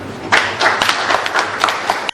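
An audience breaks into applause, a close, lively patter of many hands that holds steady for about two seconds before cutting off abruptly.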